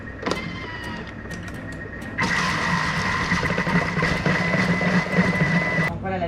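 A kitchen robot mixes béchamel with hot milk at 90 degrees on speed 4. A low mechanical hum jumps to a louder, steady whirring motor drone after about two seconds, then cuts off just before the end.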